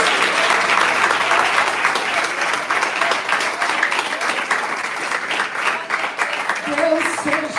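A church congregation applauds loudly and continuously, dense overlapping clapping filling the room, with a voice speaking over it near the end.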